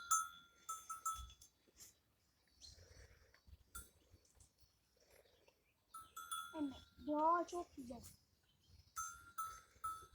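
Goats bleat now and then while grazing amid farm sounds, with a clanking bell and a person speaking briefly over the scene.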